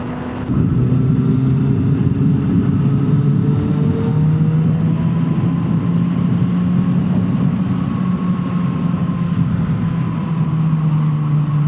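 A Kawasaki ZX6R motorcycle rides along a road, its engine a steady, loud drone with a sustained tonal hum that shifts slightly in pitch under constant wind rush throughout.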